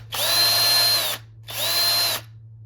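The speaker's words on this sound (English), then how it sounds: "Next thing I'm gonna do is make a pilot hole with a smaller drill bit." A power drill with a small bit bores a pilot hole during a ceiling fan motor swap, with two separate whining bursts of about a second each and a short pause between them, close and loud.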